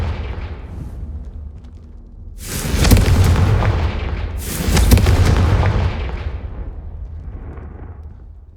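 Confringo blasting spell explosions in the game Hogwarts Legacy, two loud, close booms about two seconds apart, each a broad roaring blast that slowly dies away over a low rumble.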